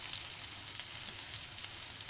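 Brinjal masala curry fries in oil with a soft, continuous sizzle and a few faint stirring ticks, heard alone and fairly quiet.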